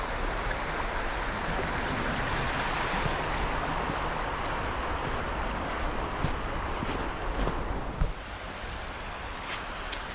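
Creek water of the Little Lehigh in Allentown rushes in a steady, dense, close wash with some wind buffeting the microphone, continuous and unbroken with no voices.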